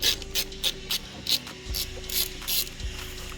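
A ratchet with a 10mm socket loosens the stuck negative terminal nut on the battery of a 2015-2017 S550 Mustang, giving a series of close, sharp clicking bursts in an uneven rhythm, with no one talking.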